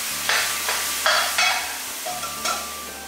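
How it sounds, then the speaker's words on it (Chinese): Jute leaves stir-fried in a wok with salty Puning bean paste and a splash of water, close hissing bursts rising and falling with each toss of the spatula, about four strokes in quick succession. "翻炒均匀就可以出锅了"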